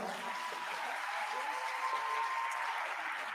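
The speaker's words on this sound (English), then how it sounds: "let's give them one more round of applause." Steady applause from an audience at a senior awards ceremony, a fairly distant, even wash of clapping sustained without breaks.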